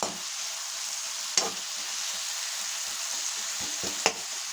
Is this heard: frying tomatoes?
yes